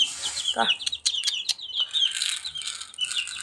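Kuwaiti chickens and chicks clucking and chirping in a coop, with a quick burst of high peeps and clucks close by, then softer scattered chirps.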